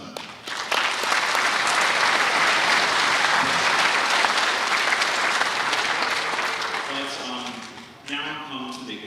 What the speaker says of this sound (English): we just give another round of applause